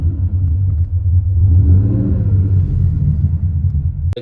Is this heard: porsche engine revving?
yes